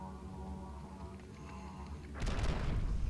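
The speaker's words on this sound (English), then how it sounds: "They do like a chain explosion when they die." Enemies bursting apart in a chain explosion in the GameCube horror game Eternal Darkness: a loud, dense burst of booming blasts that begins abruptly two seconds in and rumbles on, following a quieter stretch of game music and ambience.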